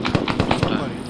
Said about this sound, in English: Hearing lots of explosions.